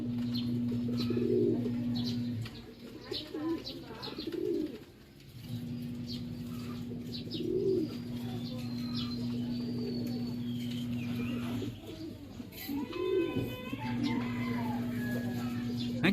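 Grizzle breeder pigeons flying high overhead, with steady coos and chirps against a constant droning hum, some wing movement and faint voices in the background.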